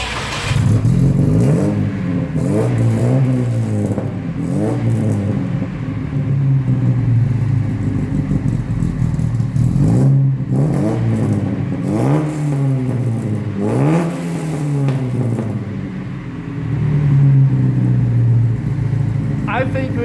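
A car engine revs and accelerates hard, the pitch rising and falling through repeated gear pulls, loud and close throughout with occasional voices over it.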